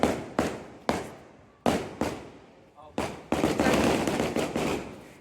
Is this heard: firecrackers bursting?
yes